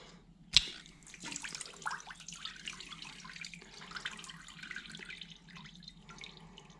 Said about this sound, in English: We're draining the coolant that's in the cylinders.